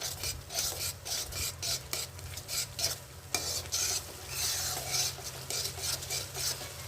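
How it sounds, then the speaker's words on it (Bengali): Mutton is sautéed with spices in a bronze kadai, with a bubbling sizzle broken by rhythmic scraping strokes of a spatula against the metal pan, heard close up. "দেখুন একটু কষানো হবে মশলার সাথে"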